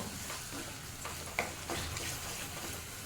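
Ground masala with garam masala frying in oil for an egg curry, a soft steady sizzle with a spoon stirring and a couple of faint clicks against the pan, fairly quiet with no talk.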